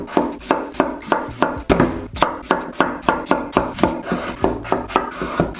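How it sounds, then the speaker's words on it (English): Knife chopping peeled Maris Piper potatoes into medium cubes on a board: a steady run of crisp, close knocks, roughly three per second, with no talking. "Peel them off and cut them into medium-sized cubes."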